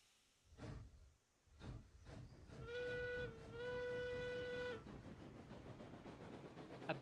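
Steam locomotive whistle in the railroad simulation game Railroads Online, a sustained tonal blast of about two seconds with a brief break, over rumbling chuffing and hissing train noise, with a couple of puffs before it.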